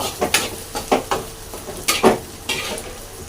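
Ginger-garlic paste frying in a pan for a home-cooked non-veg dish, with a sizzle and bursts of spoon-against-pan stirring and scraping in an irregular rhythm, close and alone.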